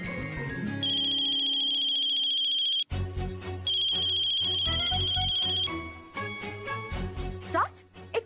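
A phone rings in a Hindi TV drama, an electronic ringtone with a repeating bright melodic pattern, loud and close, breaking off briefly and then continuing as a short voice is heard near the end.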